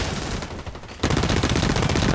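Revolver gunfire in the shooter video game Blacklight Retribution, loud and close, a dense burst of shots after a brief lull, with no talk.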